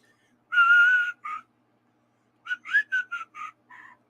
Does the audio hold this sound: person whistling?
yes